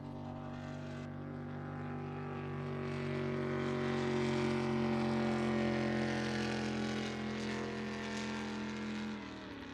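Drag racing boat engine droning on open water at a Southern Drag Boat Association event, a steady loud harmonic roar that swells and holds for several seconds before easing slightly, with no voices over it.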